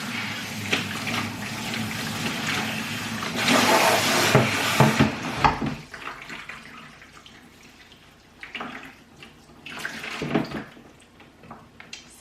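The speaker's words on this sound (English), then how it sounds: "So I soak my hair in water" Water runs and splashes while natural hair is soaked during a wash day, a loud continuous gush early on that breaks into intermittent pours and splashes, close by.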